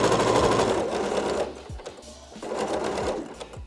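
A sewing machine stitching a neckline 8 mm from the edge, a rapid close mechanical whirr in two bursts with a short slowdown in the middle.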